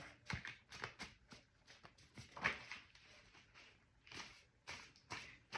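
Tarot cards are shuffled close by in a series of quick riffling bursts and soft flicks, quiet and irregular, with no voices.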